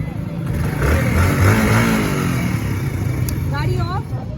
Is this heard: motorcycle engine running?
yes